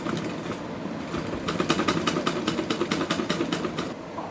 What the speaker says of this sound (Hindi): मैं इसे ऐसे मोड़ के पूरे गले पे सिलाई लगा दूंगी इस पे।